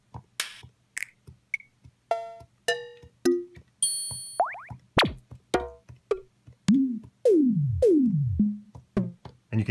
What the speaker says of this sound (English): You can hear the last 16 are just kind of random percussion sounds.